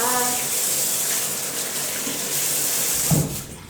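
Hands being washed under a running tap while preparing som tam, a steady close gush of water splashing, ending with a brief rise and a clunk as the flow changes.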